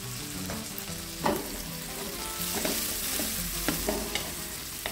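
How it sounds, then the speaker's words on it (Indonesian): Whole bird's eye chilies, garlic, red chili and lemongrass frying in oil, a loud continuous sizzle with repeated scraping stirs and clanks of a utensil against the pan. "Cabai rawit yang utuh dulu, bawang putih, cabai merah, langsung dengan serai."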